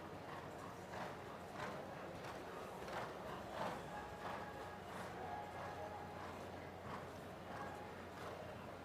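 Dressage horse performing a Prix St Georges test at an outdoor competition, hoofbeats clip-clopping in a steady rhythm throughout, moderately close and set against constant background noise with a faint voice underneath.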